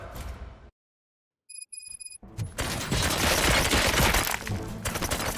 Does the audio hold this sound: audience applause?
no